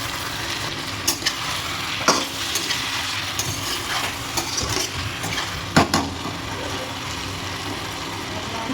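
Chicken goes into a pan of frying onions for a Bengali chicken tahari, a steady sizzle broken by several sharp scrapes and clinks of a spatula against the pan, close and fairly loud, without speech.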